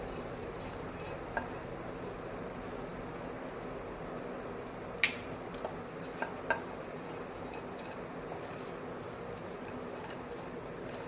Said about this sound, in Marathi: ड्रायफ्रूट आणि ते तेलावर सॉरी तुपावर व्यवस्थित परतून घेऊया